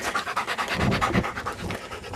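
A puppy named Gracie panting quickly and steadily after a walk, rapid rhythmic close-up breaths continuing throughout.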